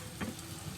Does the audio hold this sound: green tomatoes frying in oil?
yes